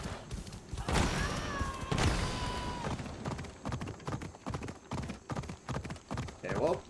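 A horse's hooves clip-clop steadily in Assassin's Creed Odyssey, a loud, close, rhythmic trot with sharp thuds and a brief whinny-like tone early on.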